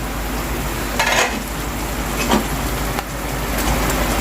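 Tofu (tokwa) hits a pan of sizzling chicken adobo, a low steady hiss of simmering with a couple of short scraping stirs and a soft clink, no talking.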